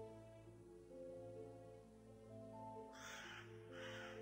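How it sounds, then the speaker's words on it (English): A crow caws twice in the Scooby Doo Haunted House browser game, harsh rasping calls over a looping musical background, moderately loud. "That's a bird."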